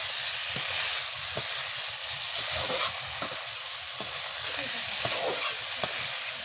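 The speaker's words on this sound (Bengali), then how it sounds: "এবার ভালোভাবে কষিয়ে নেব।" Large tiger prawns fry and sizzle in a pan while being stirred and sautéed for a coconut milk curry, a steady close hiss broken by regular sharp clinks of a spatula against the pan, with no speech.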